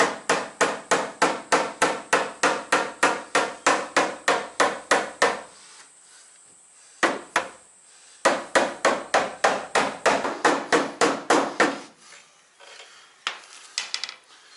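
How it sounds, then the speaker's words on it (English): A dead blow hammer gently works up the heated, painted rear fender lip of an AE92 Toyota Corolla: steady, evenly spaced thuds close by, a pause, then another run of strikes. "we take a dead blow hammer"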